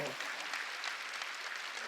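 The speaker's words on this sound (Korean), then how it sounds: "이부자리 속까지 박수를 치라고요." A church congregation claps together in a brief, dense burst of applause, steady and moderately loud throughout.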